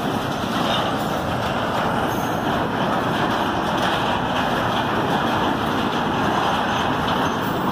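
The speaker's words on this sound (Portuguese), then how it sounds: "É um trem carregado, sentido Santos." A heavy loaded freight train rolls past close by, a steady dense rumble of wheels and cars with faint metallic squeal, continuous throughout with no voices.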